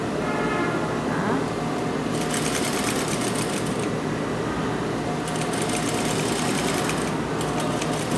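A sewing machine runs steadily while stitching an auxiliary seam for an invisible zipper, a close, continuous mechanical whir with bursts of faster, louder stitching.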